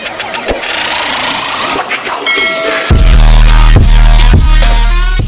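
A motorcycle engine cranks with a whirring starter and then catches at about three seconds, settling into a loud, close, rumbling idle with a few sharp knocks.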